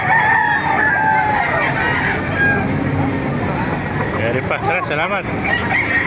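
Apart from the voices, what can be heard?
chickens crowing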